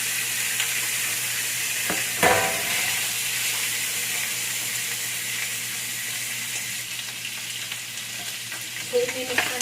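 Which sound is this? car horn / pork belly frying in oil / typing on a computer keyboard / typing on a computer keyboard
pork belly frying in oil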